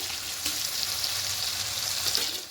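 Salted tomatoes fry in a pan while being stirred, giving a constant close hiss of sizzling with a few faint scrapes, and no voices.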